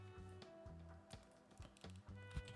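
Quiet, rapid keystrokes tap out on a computer keyboard in short bursts, close up, with a steady hum underneath.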